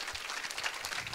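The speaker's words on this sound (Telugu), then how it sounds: "ఇంకోసారి గట్టిగా చప్పట్లు కొట్టండి." A crowd at an outdoor church shrine feast claps steadily, a dense, even patter of many hands heard at moderate distance and fairly faint, with no voices over it.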